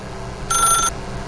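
A telephone in The Stanley Parable video game gives one short electronic ring, a bright bell-like trill lasting under half a second over a quiet background hum.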